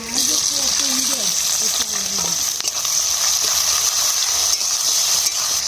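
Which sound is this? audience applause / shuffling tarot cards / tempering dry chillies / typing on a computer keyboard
tempering dry chillies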